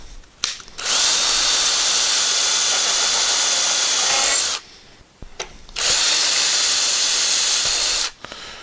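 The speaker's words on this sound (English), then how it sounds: "And we're just going to drill through." Two long bursts of a power drill with a 3/16 bit whirring steadily through melamine, close and loud, with a brief pause between them.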